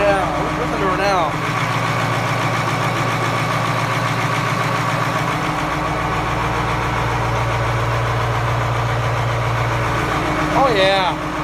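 A Caterpillar 3208 diesel engine idles after a cold start following two months of sitting, a steady loud low rumble with a regular knocking beat, while people talk briefly over it.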